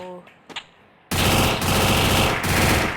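Sustained automatic M4 rifle fire in a video game, fitted with a weapon skin, a loud continuous burst with two brief gaps, preceded by faint quiet clicks.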